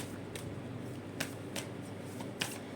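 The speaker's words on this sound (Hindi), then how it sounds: "चलिए मैं 3 कार्ड्स निकालती हूँ" Tarot cards drawn one by one from separate piles during a reading, heard as several crisp, brief card flicks and slides spaced apart over a steady, noisy background hiss.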